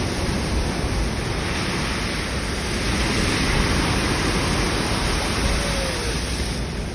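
Floodwater rushes through a creek during a flash flood in central Arkansas, a loud, steady, broadband roar heard close up without pause and with no talking.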